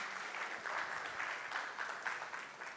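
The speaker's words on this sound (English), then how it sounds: "Ladies and gentlemen, can we have a round of applause for that" Conference audience at a generative AI and machine learning summit applauding after a talk, steady dense clapping throughout, moderately close with no speech over it.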